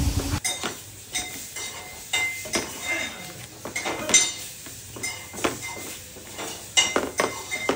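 Masala and black salt mixed into a dish with a metal spoon, giving a run of close clinks and scrapes against the vessel in an uneven stirring rhythm, loud and near, with no talk over it.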